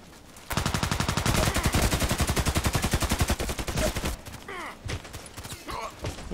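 Rapid automatic gunfire in a first-person shooter video game, a dense burst of evenly spaced shots lasting several seconds, then a few scattered shots and faint breathy voice sounds.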